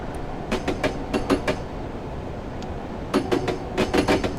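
A simulated steam train runs on rails in Train Simulator 2017, giving rhythmic clickety-clack bursts in two groups over a steady rumble, with no speech.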